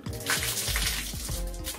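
Water runs out of a Lorenzetti Top Jet electric shower head in a short, steady splashing trickle, close and moderately loud, with no talk.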